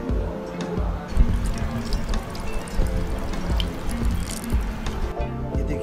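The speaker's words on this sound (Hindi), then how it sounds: "इसको मैंने हाथों की मदद से इसमें से जो पानी है वो मैं निकाल लूँगा।" Water is squeezed by hand out of cheese while making jalapeno cheese rolls, giving wet squishing and dripping sounds close up, with irregular trickles and drips over a soft background.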